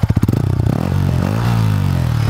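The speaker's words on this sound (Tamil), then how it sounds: "இது வந்து எக்ஸாஸ்ட் சவுண்ட்" A Yamaha MT-15 BS6 motorcycle exhaust pops in a few sharp bursts, then settles into a loud, steady low drone close by.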